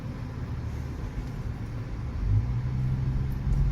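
A Tesla electric car pulls away from a stop, heard from inside the cabin as a low, steady road rumble and hum that swells slightly as it accelerates, with no talking.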